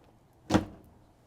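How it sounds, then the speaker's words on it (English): A small drawer slides open in a 2023 Jayco Solstice 21B RV camper van built on a Ford Transit, one quick, close, muffled slide-and-stop lasting about a third of a second against a quiet background. "Got a little bit of a drawer here."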